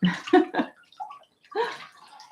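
A cleaning cloth is rinsed in a container of water, giving short sloshing and splashing bursts with brief quiet gaps between them, close and moderately loud.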